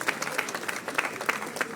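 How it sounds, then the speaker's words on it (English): An audience applauds at a national dialogue event on tax revenue leakages, welcoming a professor to give the keynote address, with steady, dense clapping filling the room throughout. "Let's welcome him with a round of applause"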